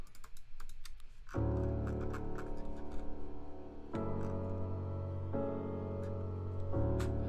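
Sustained chords from a Labs software piano in FL Studio ring out in several held blocks, changing every couple of seconds, while rapid keyboard-like clicking taps along in the background.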